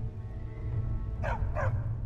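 A dog in the video game Skyrim gives two quick barks close together, standing out clearly over a steady low ambient hum.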